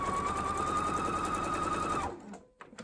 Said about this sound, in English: you're going to stop sewing with your needle down right on that line where these two hexagons meet